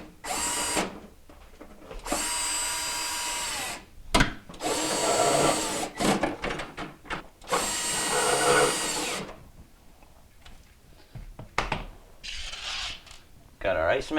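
A power drill drives the back panel screws on a Whirlpool refrigerator, several loud buzzing whirs stopping and starting, with handling clatter and brief talk between bursts.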